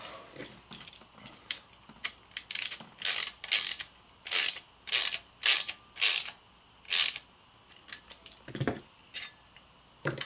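Rope being fed through a cam cleat on a Beast Stick, giving a series of sharp ratcheting clicks and zipping bursts in an irregular rhythm, close and fairly loud, with no talking.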